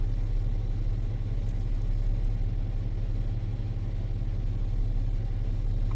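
A Chevrolet Silverado engine idling at about 800 rpm with a suspected idle issue, a steady low rumble heard close up with no talk.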